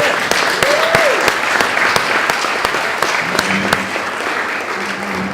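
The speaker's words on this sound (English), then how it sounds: "Let's give a round of applause to Michael for that lovely speech." A room of wedding guests gives a round of applause after a speech, steady crowd clapping with a few sharper, nearer claps standing out throughout.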